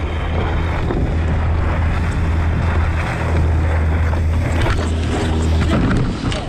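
A boat passing on open water, a loud low engine rumble mixed with heavy wind buffeting and wave wash, steady throughout and swelling slightly toward the end, close to the microphone.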